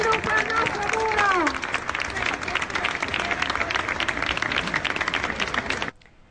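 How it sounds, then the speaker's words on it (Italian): Studio audience applause during an Italian evening news broadcast, dense steady clapping with a few voices over it at the start, holding for about six seconds before cutting off sharply. "Facciamo un applauso a tutti quanti"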